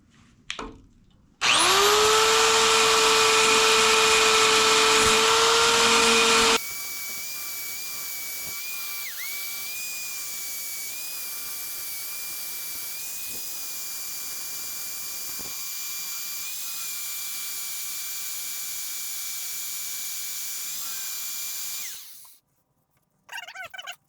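A Harbor Freight band file grinds against a set of tack welds, starting with a loud, steady high-pitched whine, then settling into a quieter continuous abrasive grind for about fifteen seconds before stopping.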